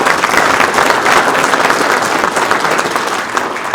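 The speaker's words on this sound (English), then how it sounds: "So why don't we have a round of applause for them for getting started." Conference audience giving a round of applause, a dense, loud, sustained clapping from a crowd that continues evenly without talk.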